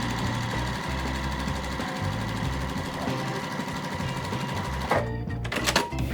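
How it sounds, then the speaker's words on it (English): Sewing machine stitching quilt pieces together for a cat and spider web Halloween quilt, a fast, steady mechanical rattle running close and continuous, pausing near the end for a few handling clicks and rustles. "All we're gonna do is sew this to this, this to this, and then sew those 2 together."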